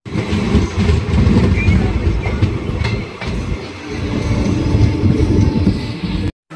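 The Narsapur Express rolls into a station, loud and close, with heavy rumbling and clattering wheels. Faint squeals come over the noise before it cuts off abruptly near the end.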